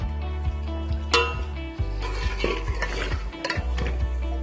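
Roasted ground white cumin is stirred into a chicken qorma in a pan. A spoon scrapes and knocks rhythmically against the metal over a soft sizzle, close by, with no talking.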